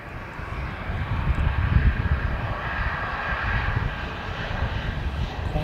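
A Qantas airliner passes overhead, its engines roaring in a steady broad rumble that swells slightly near the middle and holds loud throughout, with no voices.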